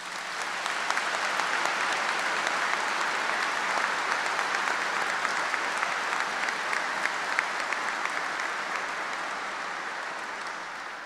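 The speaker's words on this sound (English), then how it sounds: "Let's give our graduates a round of applause." A large audience at a Liverpool University graduation ceremony gives the graduates prolonged applause, a dense, even roar of clapping that holds for about eleven seconds before easing slightly.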